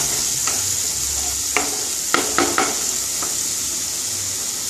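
Snake gourd and prawns sautéing in a pan give a steady, close sizzle of frying. Several sharp scrapes and clanks of stirring break through it near the middle.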